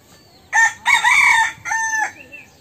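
A rooster crows loudly and close by in a village yard, one long harmonic call with a short break and a second rising phrase, while a chicken clucks faintly at the edges.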